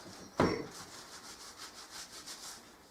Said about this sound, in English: So I'm just rubbing it down with some vinegar